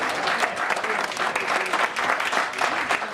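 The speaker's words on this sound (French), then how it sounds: "On peut t'applaudir" An indoor audience at a formal gathering applauds steadily, a thick continuous patter of many hands with a faint murmur of voices underneath.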